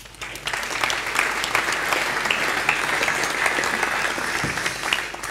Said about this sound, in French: Vous pouvez l'applaudir encore une fois.